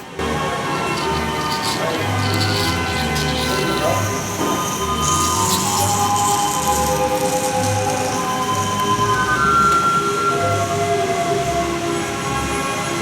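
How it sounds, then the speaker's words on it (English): A small live-steam model of a Great Western Railway Class 43 locomotive rumbles steadily along the track, running light engine, its wheels rolling and occasionally squealing, with a brief horn-like tone partway through. "it's now just running light engine just to test that everything's okay with the track"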